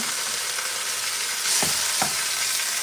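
Lean ground meat searing in a pan for chilli, a constant bright sizzle with a couple of short stirring scrapes partway through, close and steady with no talking.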